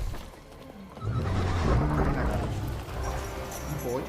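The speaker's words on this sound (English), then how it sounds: "El caballo como si nada." A horse neighs in The Witcher 3: Blood and Wine, a whinny rising over steady game ambience and low rumble, fairly close and moderately loud, lasting a few seconds.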